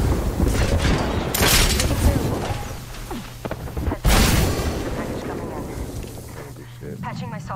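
Rapid bursts of gunfire and booming shots from a shooter video game, loud and dense, with two sharp heavier blasts standing out, heard under a player's continuous talk.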